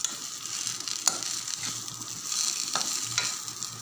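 Food being stirred in a hot pan, a steady sizzle with scraping spoon strokes and a few sharper knocks against the pan, close and fairly quiet.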